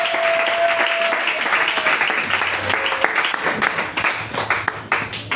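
A church congregation claps and cheers loudly in praise of the Lord, with dense continuous applause and scattered shouts over a faint sustained organ tone.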